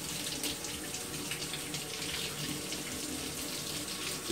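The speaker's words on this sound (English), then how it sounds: "Flowing the water, trying to get everything out of there." Tap water runs steadily over a Rapidograph technical pen being rinsed of leftover ink, a continuous close splashing hiss at low level with no speech.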